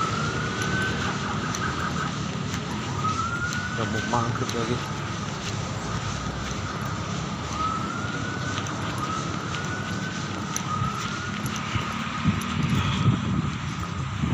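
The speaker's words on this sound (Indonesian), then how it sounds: "Kayak ada suara sirene ya saudara." A siren wails outdoors at a distance, its rising and falling tone running steadily beneath traffic rumble and wind noise while a person talks over it.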